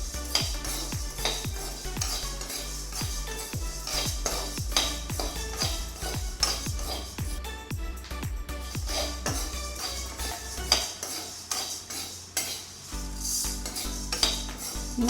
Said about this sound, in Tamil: நல்லா கைவிடாமல் வறுத்துக்கிட்டே இருக்கணும்